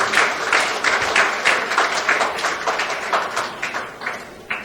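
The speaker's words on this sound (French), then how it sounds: "Je vous demande aussi de les applaudir parce qu'elles sont là dans la salle." Audience in a hall applauding women present in the room, a dense steady burst of clapping with individual claps standing out close by, no voices over it.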